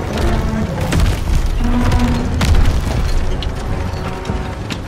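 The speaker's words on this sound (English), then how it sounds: "Friendly tanks coming over the trenches!" A battlefield in Call of Duty: WWII, with friendly tanks rolling over the trenches near Caen in 1944. The rumble and mechanical clatter is dense and loud, and deep booming blasts and scattered gunfire-like pops go off throughout.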